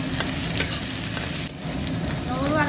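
Cumin and mustard seeds sizzle in hot oil, tempering for dahi tadka, a yogurt curry. The crackle is close, dense and steady throughout, with no talking.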